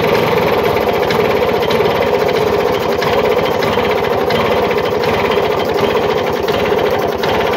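A modified Bajaj Chetak 99 scooter engine races at high revs with a loud, steady, buzzing drone and a rapid mechanical rattle, held constant and close throughout with no talking.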